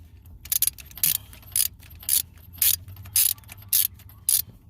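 A ratchet wrench clicks in a series of about nine quick, close bursts while loosening a 10mm bolt at the VVT solenoid on a 2010 Honda Pilot engine. No one talks.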